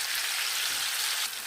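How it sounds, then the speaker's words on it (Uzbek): Carrots frying in a pot for buckwheat plov, cooked until soft, produce a loud, dense, continuous sizzle close by, alone and without talk. "Sabzimiz o'lguncha, yaxshilab yumshoq bo'lguncha qovuramiz."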